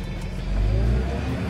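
A tractor engine revs up, rising to a steady loud rumble for a moment before easing slightly, with a low heavy drone throughout.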